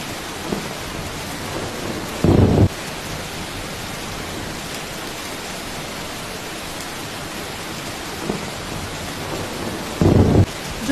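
A thunderstorm pours heavy rain in a dense, steady hiss, with two short, loud thunder bursts breaking through at separate moments.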